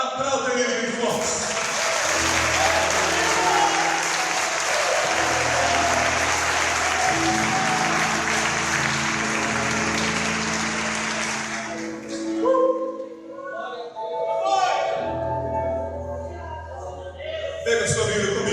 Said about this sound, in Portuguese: aplauda ele bem forte